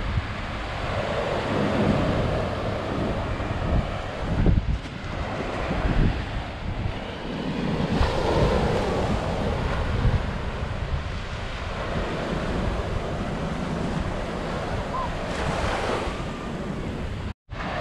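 Ocean surf and wind on a Puerto Rico beach sheltered by a rocky outcrop: a continuous loud wash of breaking waves with gusty wind buffeting the microphone, no voices.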